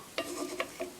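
Garlic frying in oil in a pan, a steady close sizzle broken by three quick scraping stirs.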